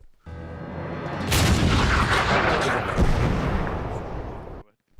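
A heavy artillery blast in the World War II shooter game Hell Let Loose rumbles loudly and booms across several seconds, with a sharp impact part way through before it cuts off.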